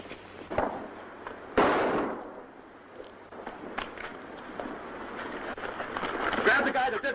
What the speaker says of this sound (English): Uh-oh, looks like gunplay.